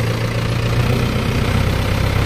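A tractor engine idles at a fixed low rpm, a steady, loud, continuous low rumble with no voices over it.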